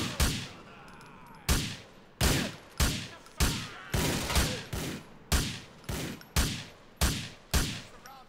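Pistol gunfire in GTA 4, about a dozen loud single shots fired at a steady, slightly uneven pace, each a sharp crack followed by a short decaying tail, with no talking.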